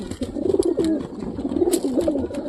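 Several pigeons coo in low, throaty, rolling calls at close range as they feed from a bowl in their coop, with small scuffling sounds in between.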